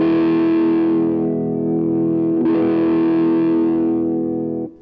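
Distorted electric guitar through a wah pedal held fully closed gives a dark, throaty sustained chord, re-struck once midway, then fading out at the end, loud and alone.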